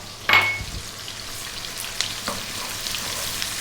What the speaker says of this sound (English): We're now going to drop in that 1 cup of onion, the tablespoon of ginger garlic paste